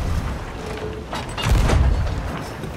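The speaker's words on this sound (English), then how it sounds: "What is this cannon doing?" A deep cannon boom fires aboard a brig in a pirate ship video game, one heavy blast with a rumbling tail over continuous ambient game noise, with no voices.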